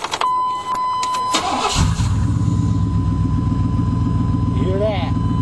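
A Chevy Silverado pickup with open headers and no exhaust cranks over and fires up, then settles into a loud, rough, pulsing idle that carries on steadily to the end, close to the microphone.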